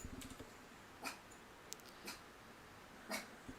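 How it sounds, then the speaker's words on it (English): A dog being looked after in a quiet room gives a few faint, short sniffs or snorts spaced about a second apart, close by and with no one speaking. "Dog sitting this fucking dog."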